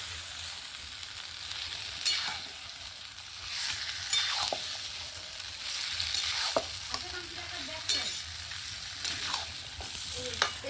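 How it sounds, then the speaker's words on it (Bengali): Duck meat being stir-fried for kasha in a pan: a constant close sizzle with repeated scrapes and knocks of a spoon, and no voices. "এটাকে ভালো করে কষাবো আমি।"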